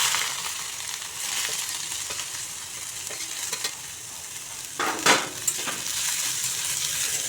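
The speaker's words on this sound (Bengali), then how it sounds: "বড় চামচে 1 চামচ ঘি দিয়ে দিচ্ছি। পেঁয়াজ কুচিগুলো দিয়ে দিচ্ছি।" Chopped onions fry in ghee in a pan, a continuous soft sizzle with occasional spoon scrapes and one sharper clatter near the end.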